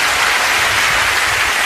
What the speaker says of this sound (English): Give Simon a round of applause, ladies and gentlemen